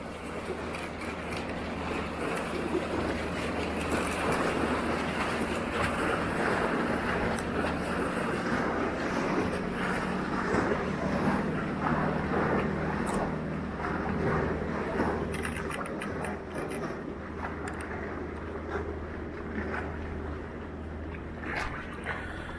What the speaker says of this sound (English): it's going to get a little loud here because it's a nice wake from a boat that just went by